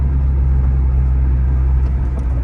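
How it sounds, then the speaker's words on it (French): Cabin drone of a Honda Civic Type R FK8 under turbo boost: a steady, loud low-pitched engine rumble with a faint rising whine above it, continuous and close, with no speech. "Là, il y a la pression du turbo."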